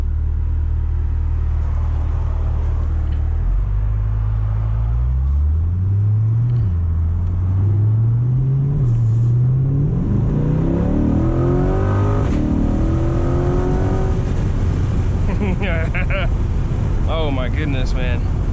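Chevrolet C8 Corvette engine and exhaust accelerating hard, a loud, close rumble climbing through rising gear pulls with shifts, heard from inside the car as people talk over it.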